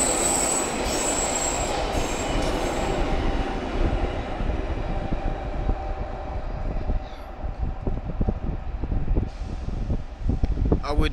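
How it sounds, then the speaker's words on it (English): A South Western passenger train pulls out of Bath Spa station toward Bristol Temple Meads: a steady loud rumble of rolling carriages with wheel squeal and rhythmic clatter over the rails, with people talking nearby. "there's the 11:47 Southwest train service to Bristol Temple Meads"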